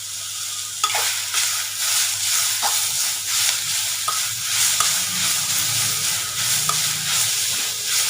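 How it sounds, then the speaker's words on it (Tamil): Chopped onions sauté in a hot pan for an egg onion samosa filling, a constant sizzle broken by occasional scraping stirs, close and steady. "இதை நல்லா பொன்னிறமாக வதக்கிக்கணும்"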